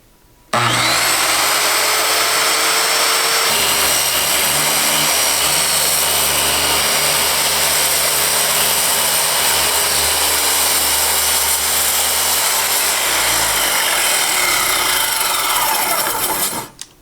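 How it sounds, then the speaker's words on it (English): A power saw blade cuts through wood during skoolie ceiling and wall work, a loud, continuous whining buzz that starts abruptly and holds steady for about sixteen seconds, close by. "my blade lined up back here, sighting it through, and we'll get to cutting"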